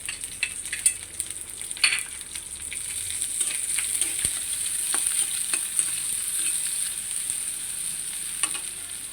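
Chopped onion and green chili frying in a small amount of oil, a constant bright sizzle with spatula scrapes and occasional pops, close up with no talking.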